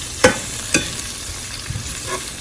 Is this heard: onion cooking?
yes